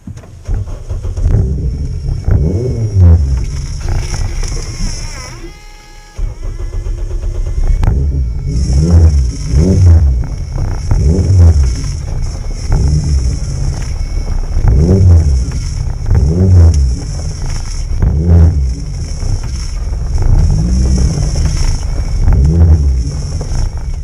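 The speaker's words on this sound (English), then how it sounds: "I'm going to top it up to max and put the engine on" A Renault Clio 200 engine idles and revs steadily during a power steering flush, with a rhythmic pulsing whine that swells and fades repeatedly as the steering is worked, close and loud, with one brief drop near the start.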